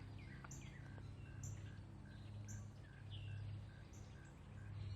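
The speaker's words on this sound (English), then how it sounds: "So a northern cardinal, that high loud chip." Sharp, high northern cardinal chip notes repeated every second or so on the Texas Gulf Coast at Galveston, moderately loud over a low steady hum and other faint bird calls.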